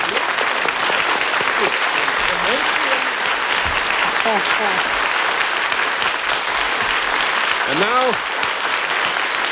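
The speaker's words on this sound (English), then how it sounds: "we have not heard applause like that for, 20 minutes or so" Loud studio audience applause for a TV game show panel, dense and continuous throughout, with a host's voice briefly speaking over the clapping.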